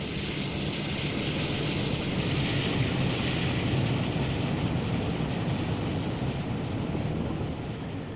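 A British Rail Class 52 diesel locomotive passes in the Train Sim World 2 game, a steady, loud broadband rumble with a low engine drone and airy hiss that holds throughout and eases slightly at the end.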